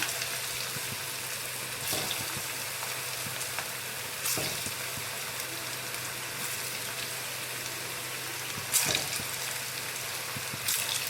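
Maggi vegetable pakoda balls deep-fry in hot oil, a constant close crackling sizzle with a few brief louder pops and bubbling bursts spaced through the stretch.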